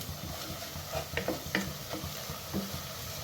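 Onions softening in a hot pan with a pinch of salt, a steady low sizzle broken by several soft scraping stirs of a spoon, close and moderately quiet, with no talking.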